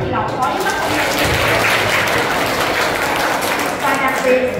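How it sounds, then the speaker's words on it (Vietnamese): Applause from students and teachers at a high school study-abroad advising event in Vietnam, a steady dense patter of clapping that runs through the whole stretch, with some voices mixed in. "xin một tràng pháo tay thật lớn để hoan nghênh sự có mặt của tất cả các bạn học sinh và giáo viên ngày hôm nay"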